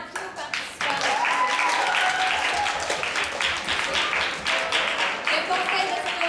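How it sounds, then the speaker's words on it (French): Auditorium audience at a school show applauding all the participants, a loud sustained round of clapping after a brief quieter start, with crowd voices mixed in. "Je demanderai une bonne main d'applaudissement à tous nos participants."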